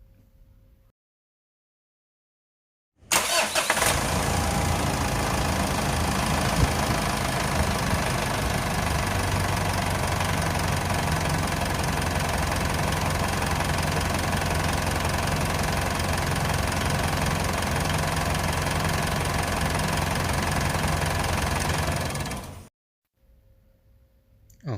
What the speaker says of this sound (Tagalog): Buksan natin yung makina.